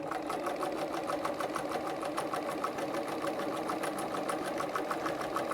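A Singer 248 sewing machine stitches steadily at a 4 mm stitch length, a smooth, continuous, rapid mechanical whir with even ticking, loud and close, with no talking.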